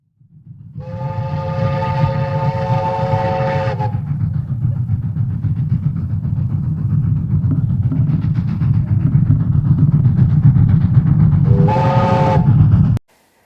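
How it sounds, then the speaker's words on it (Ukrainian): Train rumbling steadily along with its horn: one long blast near the start and a shorter blast near the end, loud and close, with no talking. "Ту-ту-ту гуде гудок, їдем всі у дитсадок."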